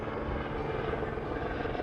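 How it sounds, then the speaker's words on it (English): A helicopter flies overhead during aerial wild hog control over farmland in the South Delta, its rotor and engine a loud, steady, continuous drone with no voices. "And then we have our aerial operations, which is using the helicopter with one of our certified aerial gunners."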